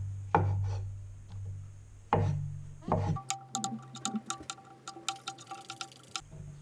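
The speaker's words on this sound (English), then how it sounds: "Cut up these mushrooms but leaving them all fairly big." Mushrooms being cut on a chopping board, a few heavy knife strokes landing at first, then a quicker run of light, crisp taps and scrapes close by.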